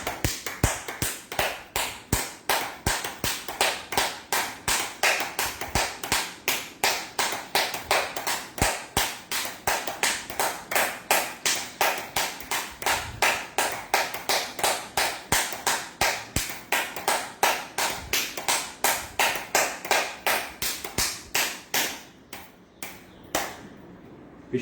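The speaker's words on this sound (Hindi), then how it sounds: "नेक्स्ट सातवीं क्रिया ताली बजाना।" Steady hand clapping done as a yoga practice: a long, even series of crisp claps at a brisk, regular rhythm, close and alone, that slows and fades out near the end.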